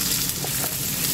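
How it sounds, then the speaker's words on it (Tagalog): Garlic and onion sauté in a hot pan while a sweet and sour dish is cooked, giving a steady close sizzle of frying throughout with no talking. "At ito, nagisa na tayo ng bawang sibuyas."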